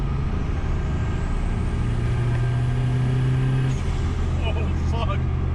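Turbocharged VGT engine revving hard under heavy throttle around 3,500 rpm, a loud steady roar with a rising tone that holds for several seconds, then cuts off abruptly into a hiss and brief chatter near the end.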